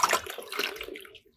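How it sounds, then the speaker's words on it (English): Brewed garden herb liquid streams and splashes out of a bag into a container, a short watery pour that trails off after about a second. "you can easily lift it out of the bag, out of the container, and it will just stream without having any of the sediments in the water"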